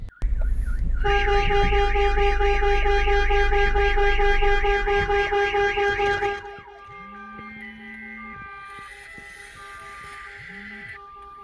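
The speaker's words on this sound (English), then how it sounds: "In 15 seconds time, the alarm system is going to sound because it's looking for this tag" A loud StarLine S Series vehicle security alarm wails with rapid rising-and-falling tones for about six seconds, then stops, followed by quieter steady beeps and two short low tones.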